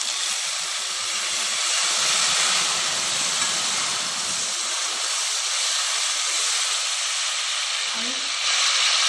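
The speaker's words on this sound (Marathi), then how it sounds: "आता आपण यामध्ये एक वाटी जे दूध घेतलेलं आहे ते घालून घेणार आहोत" Milk poured into a hot pan while making gondh peth, a winter sweet made with edible gum, gives a loud, steady steaming hiss and sizzle that lasts throughout and eases slightly near the end.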